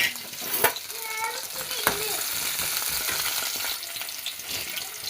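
Shallots, ginger and garlic fry in hot oil in a pan, giving a steady close sizzle with a few clinks of a utensil against the pan and brief voices in the background.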